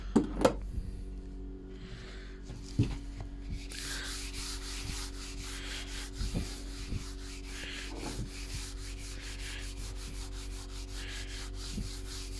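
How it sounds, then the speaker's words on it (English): Sandpaper of 320 grit rubbing over a painted window board in steady, close strokes, a continuous scratchy rasp running alone after a few light knocks at the start. "I'm going to give it a sand with 320, and hopefully that'll be the last time I sand it."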